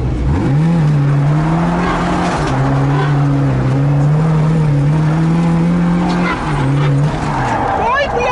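Lada Zhiguli engine revving hard with the accelerator floored, a loud sustained drone rising and holding over about eight seconds with a brief dip near the end, while someone talks over it.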